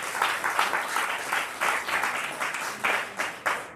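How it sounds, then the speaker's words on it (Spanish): Church congregation clapping in praise during a sermon service, a steady wash of many hands with rhythmic pulses, moderately loud and continuous for several seconds. "den un aplauso a Dios"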